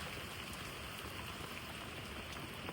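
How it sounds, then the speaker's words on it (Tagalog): Steady rain pours down during an overnight camp on a trail ride, a dense, continuous hiss of drops striking surfaces that fills the whole stretch evenly with no voices. "Inabot pa nga ng ulan."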